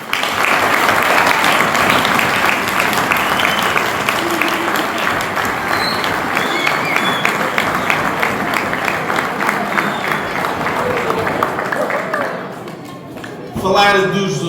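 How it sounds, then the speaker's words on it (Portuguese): A big, sustained round of applause from a crowd at a Christmas sports event in Vizela, loud and dense for over twelve seconds before dying away as a voice resumes. "eu queria pedir uma grande salva de palmas"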